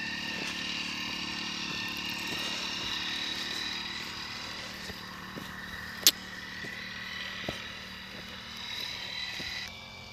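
A tractor engine droning steadily as it arrives at a farm field, a continuous mid-distance hum with a few faint knocks and one sharp click, no talking.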